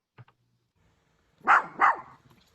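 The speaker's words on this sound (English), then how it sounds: "I've got this this little dog video here that I dropped in" A small dog gives two quick, sharp barks in a clip inserted over a screencast, preceded by a faint soft thump in an otherwise quiet room.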